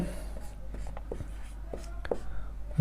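Pen or chalk writing during a Class 10 maths lesson on quadratic polynomials, heard as short scratchy strokes in an irregular rhythm over a steady low room hum, close and fairly quiet.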